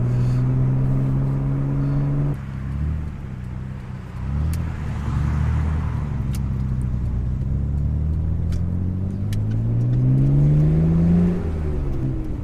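A modified 1991 Nissan Skyline R32 GTR with Nismo extras accelerates hard, its engine note climbing through a gear change and rising again in a loud, close, steady pull with road roar beneath and no talk.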